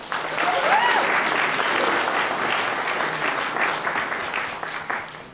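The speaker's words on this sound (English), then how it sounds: "Round of applause." Audience clapping at a team-building session for FIRST robotics volunteers, a dense and fairly loud round of applause that holds steady, then thins out over five seconds.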